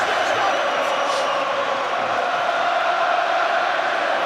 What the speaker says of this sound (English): the crowd getting behind him